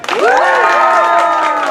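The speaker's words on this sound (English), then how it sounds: "And you may cheer now." A live audience at a Shakespeare comedy show cheers and shouts loudly, with many excited voices rising together and sustained for the whole moment.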